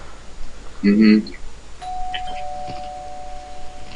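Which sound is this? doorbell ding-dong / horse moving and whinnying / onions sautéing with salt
doorbell ding-dong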